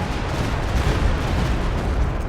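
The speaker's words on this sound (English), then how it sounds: "Second barrage doesn't really hit anything either." Stuka barrage explosions in a World War II strategy game, a dense, rumbling wash of blasts and low booms rolling continuously without clear gaps, loud and heavy.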